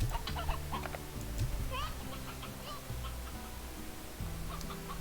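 Chickens in the video game Slime Rancher cluck in repeated short bursts over a steady game music backdrop, with a player's voice occasionally talking over them.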